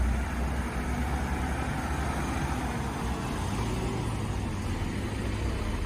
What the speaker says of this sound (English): We now see the fire trucks driving off.